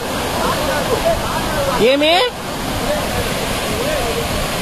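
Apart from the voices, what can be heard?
Mangampeta waterfall in Kurnool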